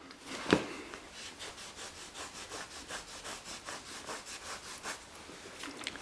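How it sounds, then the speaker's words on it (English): Steady back-and-forth rubbing of a stained shower surface with Simple Green cleaner, a quiet rhythmic scrubbing under one sharp knock near the start, with no talking. "we're going to try and get this piece out with Simple Green like that, and just rubbing"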